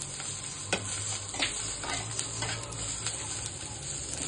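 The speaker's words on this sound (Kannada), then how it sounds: "ಹಸಿಮೆಣಸಿನಕಾಯಿ ಎಣ್ಣೆ ಹಾಕಿ ಹುರಿತಾ ಇದ್ದೀನಿ," Green chillies frying in oil for a chilli chicken dish, a steady close hiss of sizzling with occasional stirring scrapes and light clinks, no voices.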